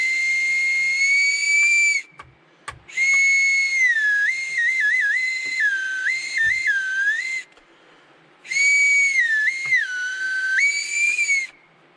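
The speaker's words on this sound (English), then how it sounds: "So I thought that was pretty cool, like a little survival whistle." A shrill homemade bamboo whistle is blown in several long blasts with brief gaps, its pitch wavering and warbling, loud and close with no talking.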